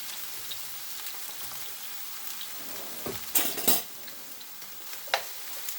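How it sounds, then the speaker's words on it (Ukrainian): Eggplant pieces fry in a hot pan, a soft continuous sizzle broken by a few louder scraping stirs and crackling bursts partway through. "І в процесі смаження буду помішувати щоб баклажани просмажилися до румяної шкірочки з усіх боків"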